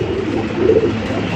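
Soft, low cooing of Giribaz pigeons rises briefly over a steady background hum, close and fairly quiet.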